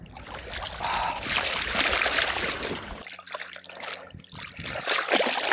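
Water trickles and splashes nearby as a towel is rinsed outdoors in a stream during a motorcycle trip in France, with uneven sloshing bursts and a quieter gurgling patch midway.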